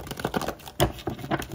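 Tarot cards being shuffled by hand, a quick series of close, crisp riffling and slapping sounds with a stronger snap in the middle, no voices over it.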